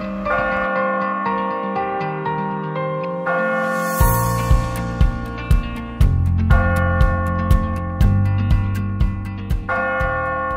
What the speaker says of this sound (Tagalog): Muling maririnig ang tugtog ng kampana sa malayo.